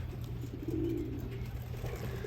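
A single soft, low coo from racing pigeons in a backyard loft, brief and faint over a steady low hum, with no other calls.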